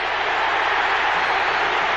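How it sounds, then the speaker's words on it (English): A large stadium crowd roars steadily at a Georgia vs Clemson college football game, a dense, continuous wash of cheering that fills the whole moment without letup. "you can really feel that home field advantage coming into play now as the crowd gets behind Georgia"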